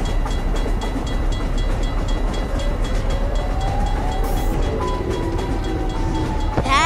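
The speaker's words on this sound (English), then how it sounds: "Train, move already!" A train rumbling past close by, a loud continuous roar with rhythmic rail clatter and a faint rising tone near the end.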